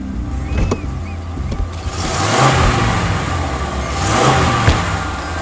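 A car engine runs steadily after starting, with revving swells rising and falling in a tense horror-movie scene; the sound stays continuous and fairly loud throughout, with no talk over it.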